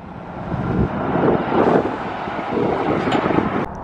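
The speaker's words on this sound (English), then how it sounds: "This ERF is leaving." A classic ERF truck pulls away from an outdoor classic truck show at a truck stop, its engine a broad rumbling roar that swells and eases over a few seconds, buffeted by heavy wind noise on the microphone.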